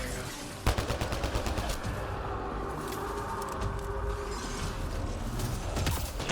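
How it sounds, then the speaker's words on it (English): A sci-fi beam weapon fires in an alien-themed shooter game, opening with a sharp crack and then a sustained crackling, buzzing blast mixed with repeated impacts and mechanical clatter. "Can you stop shooting this beam thing at me"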